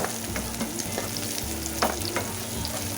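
Garlic and onion sautéing in a hot pan, a steady close sizzle with soft scraping stirs and a few louder clicks of the utensil against the pan, with no talk.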